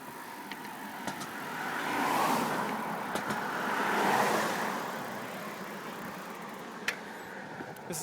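Cars driving over a bridge above the Cahaba River pass at moderate distance, two broad swells of tire and engine noise rising and fading over a steady outdoor background.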